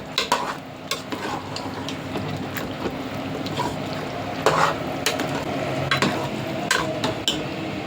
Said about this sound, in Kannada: ಇದನ್ನೆಲ್ಲ ಚೆನ್ನಾಗಿ ಮಿಕ್ಸ್ ಮಾಡೋಣ. ಚೆನ್ನಾಗಿ ರೋಸ್ಟ್ ಆಗಲಿ.